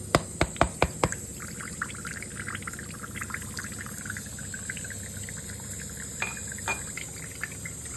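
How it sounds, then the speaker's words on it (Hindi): A few sharp knocks, then a thin trickle of water draining steadily out of a coconut with soft splashes and drips, alone and close. "को तोड़ने के लिए पहले इसका पानी निकालें।"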